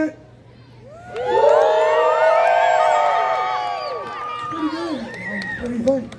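A crowd of children and adults at a pumpkin farm pig race yells and cheers loudly for a few seconds, rising from a quieter start and then tapering into scattered shouts.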